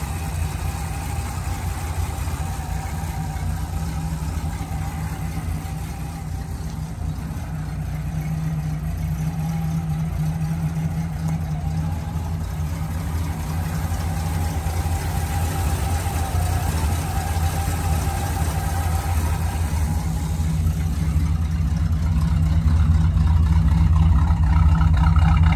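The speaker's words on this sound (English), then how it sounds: "Here's a video of the Avanti running." A 1963 Studebaker Avanti idles steadily outdoors with the air conditioning running, a continuous low engine rumble that holds even for the full length and swells slightly louder near the end.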